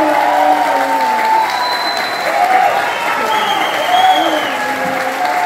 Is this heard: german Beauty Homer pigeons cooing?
no